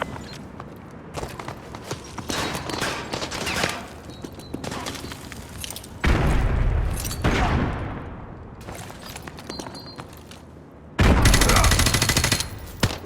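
Call of Duty Modern Warfare 2 combat: rattling bursts of rapid gunfire and loud blasts, including a heavy thud from a frag grenade, swell and fall across the scene with no clear talking.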